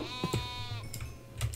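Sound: goat bleating in a video game

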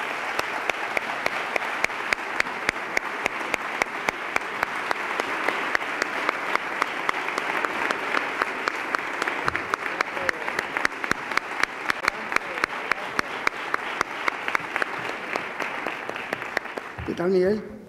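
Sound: audience applause at a Semana Santa gala

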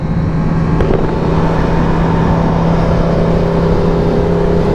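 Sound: gas engine revving

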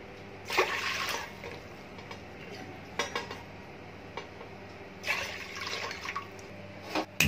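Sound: about three glasses of water poured into a large steel pot

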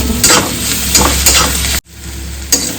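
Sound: onion frying with green chili paste, being mixed

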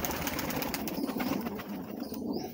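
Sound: pigeons fighting and flapping

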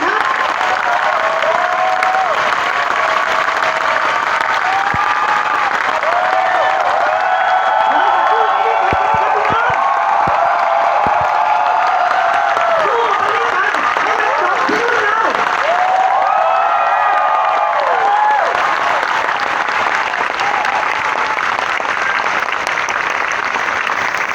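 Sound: long applause from crowd

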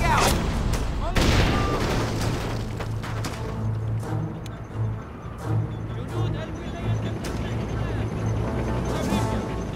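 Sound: M203 grenade launcher fire in the video game Full Spectrum Warrior

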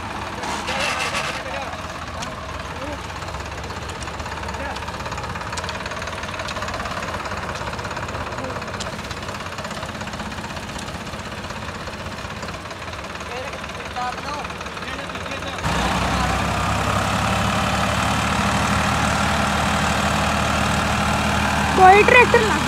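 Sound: Sawraj 735 tractor engine started and idling

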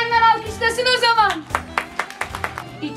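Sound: neighbours clapping from balconies

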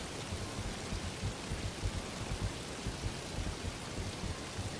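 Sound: waterfall in video game Animal Shelter Simulator

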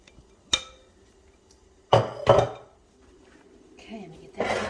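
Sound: casserole dish being put in oven

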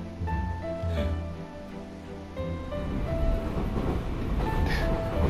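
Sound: train riding, from video game Root Letter Last Answer

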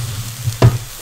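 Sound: chili and onion frying in oil

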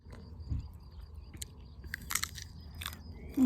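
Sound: biting and chewing a small sour apple

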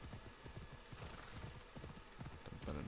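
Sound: horse clip-clop in the video game Assassin's Creed Odyssey

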